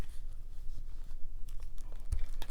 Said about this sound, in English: She hears the crumpling of the paper